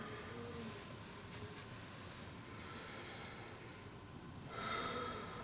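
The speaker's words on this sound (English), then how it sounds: "take a deep breath in and exhale" One slow, deep exhale of breath, drawn out and fairly close, sounding airy and rising toward the end over a quiet, steady room hush.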